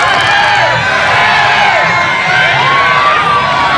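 A large live crowd cheers and shouts in a continuous, loud, dense roar at an American Sasuke-style obstacle course competition, with a commentator's voice mixed under the noise.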